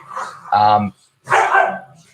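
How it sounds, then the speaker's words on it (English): Dogs bark in the background in two short bursts of sharp, yappy barks separated by a brief pause. "sorry about the dogs in the background there."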